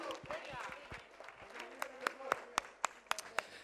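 Crowd applause at an outdoor San Froilán festival vermouth session in Lugo with Orquesta Suavecito, scattered clapping under a voice on the mic, turning into sharp, loud rhythmic claps near the end.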